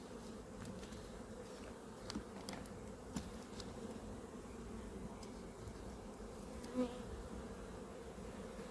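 A steady, dense buzzing hum of many honeybees at an open hive close by, with a few brief louder buzzes as individual bees pass near.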